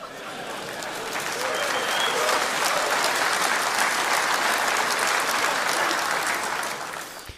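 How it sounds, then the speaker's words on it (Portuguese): A church audience at a sermon on missionaries bursts into applause that swells to a steady, dense roar of clapping and then fades out toward the end. "E eu não sei por que vocês estão batendo palmas."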